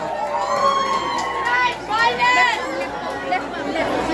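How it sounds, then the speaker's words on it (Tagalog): A large crowd at a presidential visit in Cavite shouts and cheers continuously, with excited voices and children's shrieks rising over a dense roar of chatter. "Sigawan yung mga tao."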